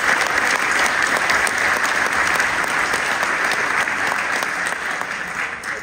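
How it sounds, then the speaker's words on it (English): An audience at the 2024 Smithsonian Folklife Festival in Washington, D.C. claps in a sustained, dense round of applause, loud and steady throughout before tapering slightly at the end. "let's give them all a great round of applause as well."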